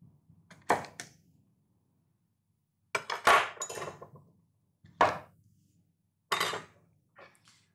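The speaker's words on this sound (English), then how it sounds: "I then cut off the uniform pieces with the chef's knife" A chef's knife cutting cucumber into uniform pieces on a board, four separate clusters of crisp, close chops and clicks with short silent gaps between them.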